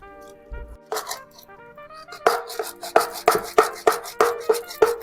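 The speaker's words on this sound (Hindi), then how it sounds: "अच्छे से इसे दाल घोटनी से जो है घोट लेना है।" A dal masher working gram flour, curd and water batter in a pot, with a series of rhythmic, close, wet knocking strokes that grow steadier and more regular after a few scattered opening hits.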